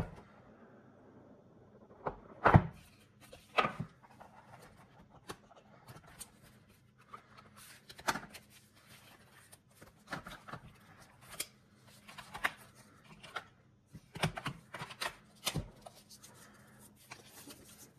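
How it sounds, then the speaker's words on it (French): Unboxing of an Oppo Reno 13 5G smartphone: scattered close rustles, scrapes and sharp plastic and cardboard handling clicks, with a loud snap early on and irregular bursts throughout, no talking. "J'envoie le déballage et on en discute après."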